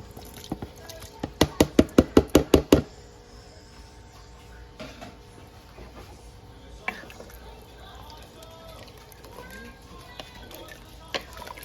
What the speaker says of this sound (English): We're gonna add our shrimp in now.